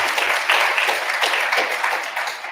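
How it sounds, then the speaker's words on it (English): Audience applause, a dense wash of many hands clapping together, steady and fairly loud, tapering slightly toward the end. "She definitely deserves a round of applause."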